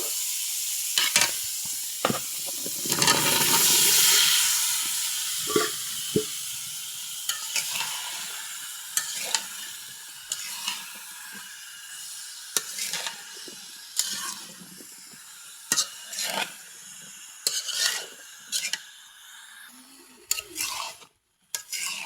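Vegetables for a vegetarian curry tipped into spices already fried in a pan, with loud sizzling at the start followed by repeated scraping stirs and clinks of a spoon against the pan, no talking.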